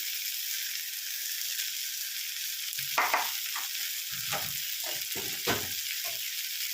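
Turmeric powder and Kashmiri chili fry in hot oil for dim kosha, giving a steady close sizzle, broken later by a few scraping stirs and clinks.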